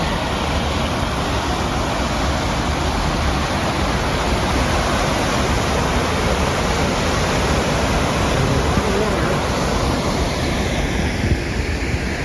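Water pours steadily over a dam structure at Blind Sucker Campground, a constant loud rushing roar that fills the scene without pause, close by and alone.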